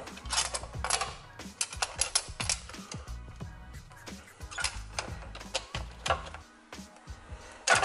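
Socket wrench opening the oil filter housing on a BMW F30, a close run of rapid ratchet clicks and clattering mechanical ticks lasting several seconds with short breaks.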